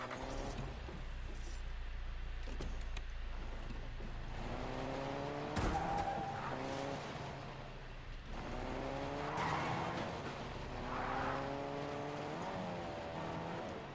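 A car in a video game speeds off with tires skidding and squealing, several long screeching slides rising and falling over engine roar, fairly loud and close with no talk.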